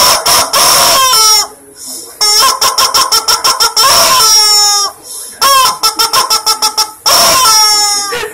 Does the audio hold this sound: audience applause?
no